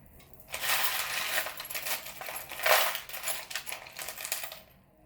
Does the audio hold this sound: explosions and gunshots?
no